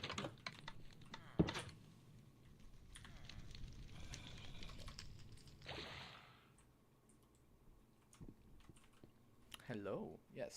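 A cat stepping across a computer keyboard, producing scattered irregular key clicks and soft taps close by, with a person talking softly and a brief cat sound near the end.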